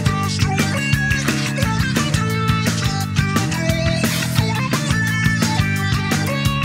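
Final release version of the Splatoon main theme from the video game, with synthesized squid-style singing over a dense, continuous musical backing of steady beats and layered melody throughout.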